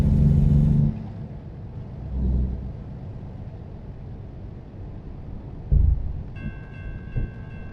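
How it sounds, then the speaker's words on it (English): A train rumbles closer in a driving video game, a steady low roar with a bright horn-like tone entering near the end, loud and alone. "And the train is coming now."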